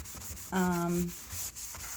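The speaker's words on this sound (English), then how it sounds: "I add it to an abrasive sponge, and then I just wipe it away." An abrasive sponge wipes rust-remover spray off a stainless steel appliance in one short, light rubbing pass, with a fainter second stroke after it, close and quiet against a low room background.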